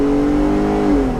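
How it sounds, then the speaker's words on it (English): A 2020 Jeep Gladiator Overland pulls up to speed under a little gas in normal automatic mode, its engine note held steady and loud from inside the cab, then dipping slightly as it shifts near the end. "So we're gonna go ahead and give it a little bit of gas, see how well this gets up to speed."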